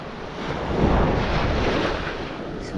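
Ocean waves wash up on a shell beach in a steady, close rush of surf that swells and fades, with wind noise on the microphone.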